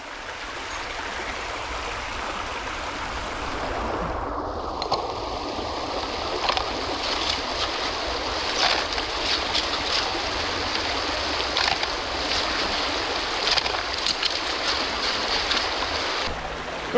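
Water pours steadily through a gold panning sluice outdoors in Scotland, a constant close rushing flow with small splashes and scrapes scattered throughout.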